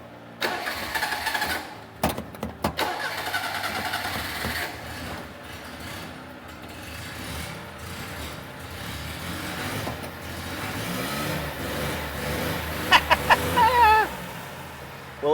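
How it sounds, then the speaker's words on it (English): An old carbureted car engine, left sitting for years, cranks with several sharp bursts and then catches into a rough, uneven run that sputters on without settling into an idle. A brief voice reaction comes near the end. "as long as the carburetor's working right now, it should fire right up"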